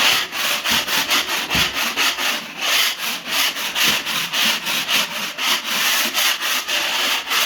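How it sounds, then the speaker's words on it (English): Steady rhythmic scraping of a scraper on a wall before painting, a rough rasping stroke repeated about twice a second, close and continuous with no talking. "So when I kind of scrape the wall, it'll get rid of any hard chip"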